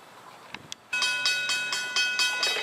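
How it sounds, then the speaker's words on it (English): Long Island Rail Road westbound Cannonball train from Montauk to Penn Station approaching the Pine Street crossing at East Moriches, a rural stretch at night, sounds a loud, repeated horn in a steady rhythm of blasts after a few faint clicks. "approaching the Pine Street crossing here at East Moriches is train 8717, the westbound Cannonball, en route from Montauk to Penn Station"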